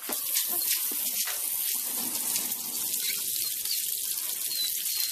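Water from a tap splashes into a sink as a steady hissing spatter, fairly close and with no voices.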